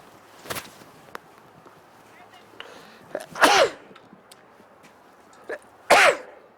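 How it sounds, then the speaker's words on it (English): Two sharp, loud sneezes a few seconds apart, each with a quick burst, over a quiet background with faint clicks, during commentary at a polo match. "I had to sneeze for a second."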